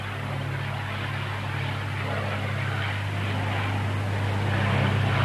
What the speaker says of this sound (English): This particular Spitfire served in 1940 Squadron of the Royal Air Force.